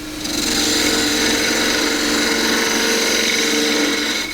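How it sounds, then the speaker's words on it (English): A lathe gouge cuts the foot of a small natural-edge wooden bowl, giving a steady, continuous mid-to-high scraping hiss with machine hum held at an even loud level throughout. "just raise the handle to pivot the edge into the wood"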